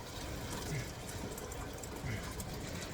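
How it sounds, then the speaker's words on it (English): Hot lasagna noodle cooking water poured from a pot into a kitchen strainer gives a steady, even rush of splashing liquid that continues for the whole stretch. "pour the water into the strainer."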